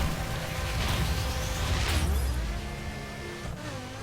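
Lamborghini Gallardo LP570-4 Superleggera in The Crew video game, a loud, steady engine roar with wheel spin and rising revs broken by gear shifts around the two-second mark and again near three and a half seconds.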